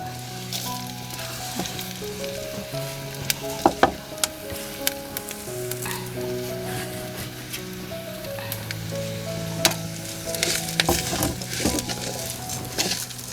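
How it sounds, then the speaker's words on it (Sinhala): Roasted dal fries in a pan for a Sri Lankan parippu curry, a steady soft sizzle with occasional sharp clinks of stirring, heard under background music. "අපි දැන් පරිප්පු ටික උයන්නේ බැදපු පරිප්පු."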